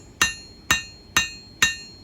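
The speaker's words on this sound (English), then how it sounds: "As I'm hammering into the bevels, I'm drawing down the blade edge, and that's also making the blade wider." Hammer blows forging the bevels of a small skinner knife blade on an anvil, four sharp ringing metallic strikes at an even, steady pace, close and loud with no talk.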